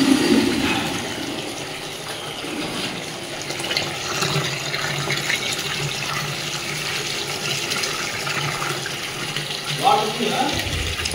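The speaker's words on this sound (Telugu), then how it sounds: "వాటర్ వస్తున్నాయిలే" Water runs steadily from a tap in a home, a continuous hiss and splash heard fairly close, with a few clattering knocks near the end and some faint background talk.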